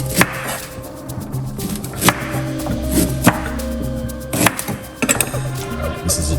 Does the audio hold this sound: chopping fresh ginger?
yes